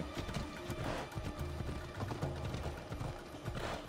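Rhythmic clip-clop of horse hooves at a steady trotting pace in Assassin's Creed Odyssey, fairly close, with a brief whinny-like tone over a low ambient bed.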